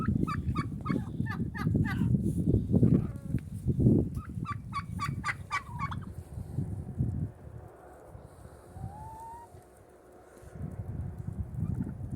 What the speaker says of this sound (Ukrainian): Ось індики, гуси, качки, кури.